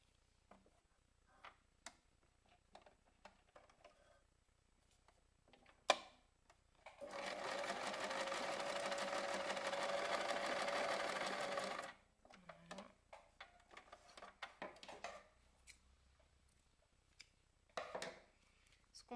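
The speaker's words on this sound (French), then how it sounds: "je vais recoudre aussi des petites chutes de fil et des petites chutes de dentelle" A domestic sewing machine stitches scraps of thread and lace onto an altered tag in one steady burst of about five seconds, rapid and mechanical, framed by quiet handling clicks and taps before and after.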